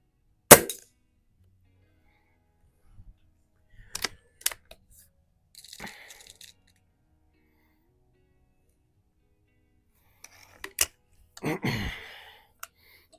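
A Stoeger X5 .177 spring-piston air rifle fires at steel plates and spinners on a range: sharp isolated shot cracks followed by metallic plate hits, spaced out with quiet gaps, plus a short burst of rattling clangs near the end.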